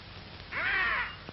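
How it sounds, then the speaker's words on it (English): A white peacock gives a single loud, harsh, wailing cry lasting about half a second, standing out against a quiet jungle background near Borneo. "That was the call of the white peacock."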